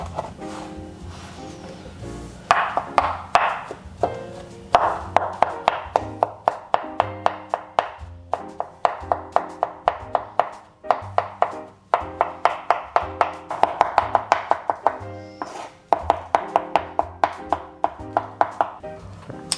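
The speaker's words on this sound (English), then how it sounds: "Right now we're chopping mushrooms." A knife chops mushrooms rapidly and rhythmically on a cutting board, sharp repeated taps in quick bursts with brief pauses between runs.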